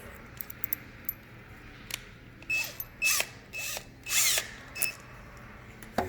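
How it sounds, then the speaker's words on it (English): Short bursts of a power drill whirring as it pre-drills screw holes in wood, several brief runs with pauses between, close and fairly loud against a quiet room. "if I can get my drill in there, I'll pre-drill them just a little bit"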